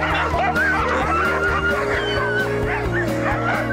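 Dogs bark and whimper up close, with sharp repeated yips and whines over a steady low hum and engine-like drone.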